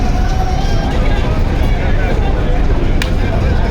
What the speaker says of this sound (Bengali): প্রথম লঞ্চ ছাড়ার 12 মিনিট পর মানামি লঞ্চটি ছেড়ে যাচ্ছে।